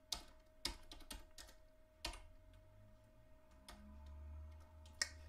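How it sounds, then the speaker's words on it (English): Light, scattered taps on a computer keyboard, a few separate clicks and short clusters over a quiet room with a faint low hum, close and soft, with no talking. "let me actually type it out"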